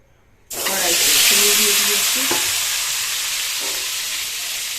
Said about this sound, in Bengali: এখন ডিমটা ভেজে নেবে